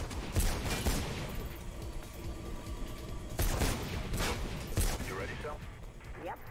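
Enemy gunfire in Mirror's Edge comes as sharp bursts and single shots spread through the passage, mixed with game sounds while someone talks over it.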